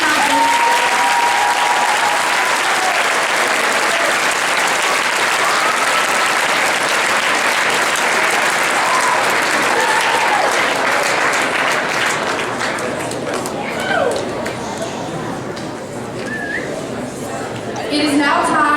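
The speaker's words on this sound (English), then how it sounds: "can we give a round of applause for people who have been" An assembly at a youth legislative meeting breaks into long, loud applause, dense clapping mixed with cheers and chatter, tapering off in the last seconds as voices take over.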